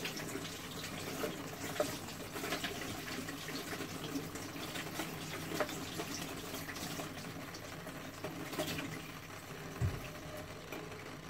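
Tap water runs steadily into a kitchen sink while raw chicken breast is washed, a faint continuous splashing hiss with small knocks and clatters from handling, quiet and close.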